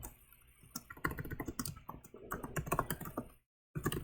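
Rapid close typing on a computer keyboard, a dense run of clattering keystrokes with a brief pause before a final burst.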